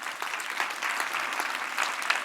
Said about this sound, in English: Can I ask everyone in the room to already give them a big round of applause?